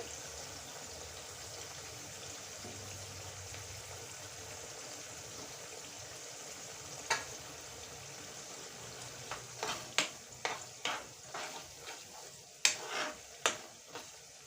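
Spiced green pea pickle sizzles gently in hot oil over lowered heat while a spoon stirs it, with a run of sharp scraping clinks against the pan growing busier toward the end.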